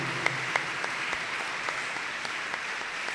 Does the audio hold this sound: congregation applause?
yes